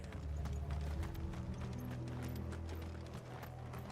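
Horses gallop with a fast, dense clip-clop of hooves in the Final Fantasy XVI video game, loud and continuous over a low rumbling game soundtrack.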